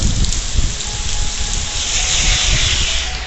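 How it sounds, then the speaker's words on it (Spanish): Heavy rain pouring down in a downpour, a loud, dense, continuous hiss of drops hitting surfaces close by, steady from start to finish with no voices. "Acá diluvia. Lluvia bien estando acá adentro me estoy mojando todo."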